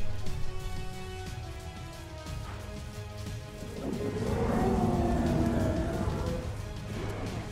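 Rain falls in the dinosaur survival game The Isle Evrima, a soft, steady patter that swells louder midway, mixed with low tonal game ambience and no speech.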